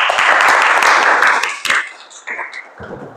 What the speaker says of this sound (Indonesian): Sekali lagi tepuk tangan untuk kita semuanya.